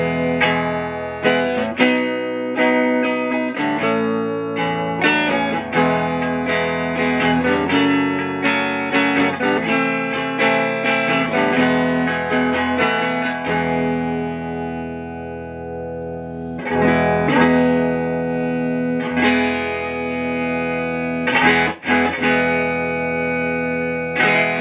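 Telecaster electric guitar played through a Fender Champ clone amp, picked notes and chords ringing out with a clean-to-slightly-driven tone, played alone with short pauses between phrases.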